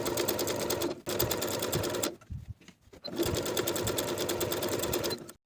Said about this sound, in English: Then I'm going to top stitch, edge stitching close to my finishing stitches all the way around the bottom of the garment.